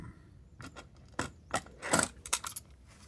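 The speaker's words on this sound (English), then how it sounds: "I just need to insert the tape into this rather attractive tape deck." A cassette tape is pushed into an Amstrad CPC tape deck, giving a quick series of small plastic clicks and rattles, close and fairly quiet.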